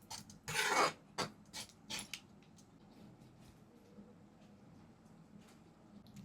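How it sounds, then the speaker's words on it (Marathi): Maggi noodles being mixed with masala in a bowl, a few quick scraping, rasping stirs early on, then quieter soft rubbing, faint and close, with no talk. "आता हे चांगलं आपल्याला मिक्स करून घ्यायचं आहे."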